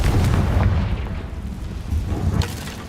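A fiery Confringo blast spell erupts in the Hogwarts Legacy game, making a loud, rumbling explosion with deep booming bass that swells, fades slightly, then flares again in a second burst.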